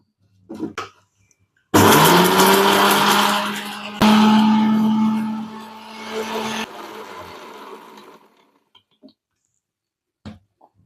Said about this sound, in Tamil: இதை அரைச்சி எடுத்துக்கலாம். கொஞ்சம் குறப்பாக அரைச்சா போதும்.